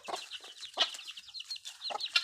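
Chickens cluck close by on a rural village morning in Thailand or Laos, a run of quick, bright clucks and short calls in uneven bursts, with no voices.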